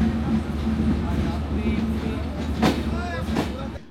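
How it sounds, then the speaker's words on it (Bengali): A train pulls away from Darshana station with a steady low rumble and clatter heard from inside the carriage, continuous and fairly loud throughout. "দর্শনা স্টেশন ছেড়ে আবারও যাত্রা শুরু করলো আমাদের ট্রেন"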